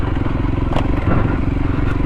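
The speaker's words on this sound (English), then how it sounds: "Bit of dirt riding." A motorcycle rides on a dirt road in rural Morocco, its engine loud and close with a constant rumble, overlaid by rattling and scraping from the rough ground.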